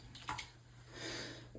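Knife rinsed in water after sharpening: a brief, faint splash and swish of water, with a short trickle toward the end, alone with no talk.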